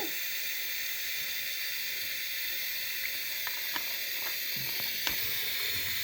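Cumin seeds and panch phoron in hot oil with browned chopped onion and garlic, a steady faint hiss with light crackling pops toward the end, no voices.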